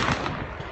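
Sharp, loud gunshot bursts at an outdoor shooting range in a brief, dense moment of firing with no talk.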